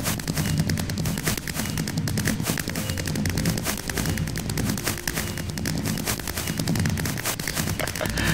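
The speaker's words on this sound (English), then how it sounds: "There are a ton of fireworks in there." Fireworks burst in Minecraft during a 4th of July display, a dense, steady barrage of overlapping pops and crackles at moderate loudness with no pauses.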